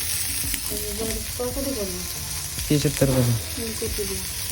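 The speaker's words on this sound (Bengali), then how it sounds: "পটল ভাজা" Pointed gourd sizzles steadily as it fries in a pan, with stirring scrapes now and then and voices chatting on top of the constant hiss.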